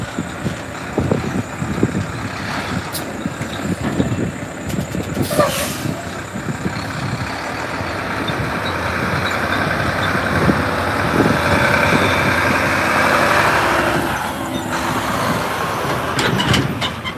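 A truck hauling equipment rumbles nearby at SpaceX Starbase, its heavy engine droning on with a sharp hiss of air brakes partway through, the noise swelling slightly as it moves and idles.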